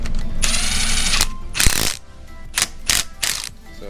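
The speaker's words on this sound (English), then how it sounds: "He's setting the block in place, then he's backing the bolts out so they're loose so we can do our torque." A hand ratchet backs out bolts on an LS7 engine block in a series of close, crisp mechanical clicks, first a steady run of fast clicking and then several short separate bursts.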